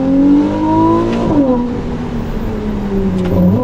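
A Ferrari 296 GTB twin-turbo V6 hybrid pulls hard through a small village, its engine note climbing in pitch, dipping at a gear change, then rising again, heard loud from inside the cabin.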